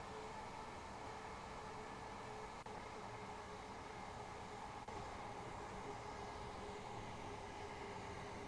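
A Gatwick Express train runs from London Victoria toward Gatwick, overtaking a Southern service in Train Sim World 3, giving a steady, even rumble of wheels and traction noise with two faint clicks over rail joints.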